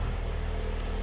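A 2018 Alfa Romeo Stelvio Ti AWD with a 2-liter turbo engine runs at idle, giving a steady low rumble with an even pulsing throb close by and no voices.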